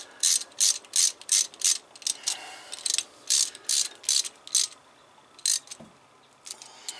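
A ratchet strap being cranked tight during a Ford Thunderbird axle removal, sharp rapid clicking bursts repeated in quick strokes with brief pauses between, close up and clear with no talk.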